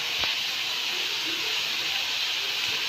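Ground coriander sizzles in hot mustard oil, a steady, bright hiss that holds evenly throughout, with a soft low thump near the start and no talking.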